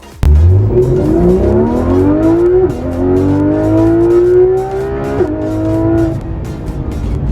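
A Porsche 991 GT3 RS rear-mounted 4-litre flat-six revs hard and climbs in pitch, drops briefly as it shifts, then keeps pulling loudly, close by.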